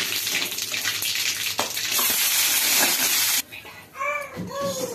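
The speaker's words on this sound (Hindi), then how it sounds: "इसमें मैं मिर्ची पहले फ्राई कर लेती हूँ" Green chilies fry for khaman in a loud, bright, crackling sizzle that runs for about three seconds, then cuts off abruptly to quieter clattering with a few brief ringing tones.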